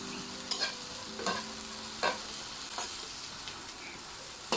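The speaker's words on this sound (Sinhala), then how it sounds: "පොඩ්ඩක් ෆ්‍රයි කරලා ගමු. කැරට් ටික ගොඩාක් සම්බන්න එපා." Carrots sizzle while being stir-fried in a pan, with roughly five evenly spaced spatula scrapes cutting through a steady, close frying hiss.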